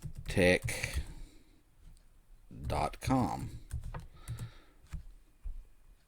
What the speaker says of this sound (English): You're going to type in the address to get there.